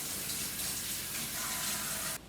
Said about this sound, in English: Step 1, wash your hands.